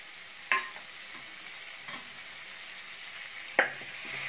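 Whole spices (black and green cardamom, cinnamon and cumin) fry gently in melted butter with a faint, steady sizzle, while two sharp spoon scrapes stand out against the quiet background.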